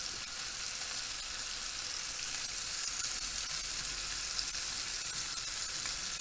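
Lamb meatballs sizzle and fry steadily in a pan, a close, continuous crackling hiss with no voices over it.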